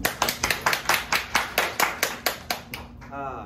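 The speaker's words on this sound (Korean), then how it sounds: "박수." Clapping at a live pub show, a steady rhythmic series of about a dozen loud, close hand claps in even time, fading out near the end as a voice starts.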